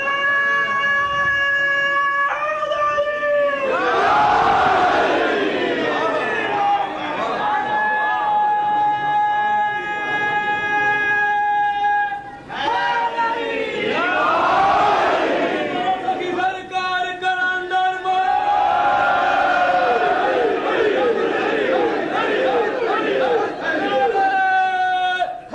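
At a religious sermon, a large crowd chants slogans in unison in three loud, sustained waves, each swelling and then fading into murmuring between calls.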